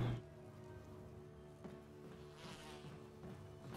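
Insects buzz in a Resident Evil HD Remaster game scene, a faint, continuous droning hum that wavers slightly in loudness without pause.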